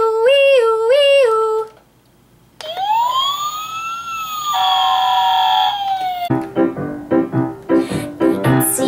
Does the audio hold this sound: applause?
no